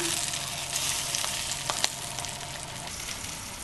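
A foie gras escalope sears in a hot pan with a steady, moderate sizzle and a few small pops and crackles near the middle.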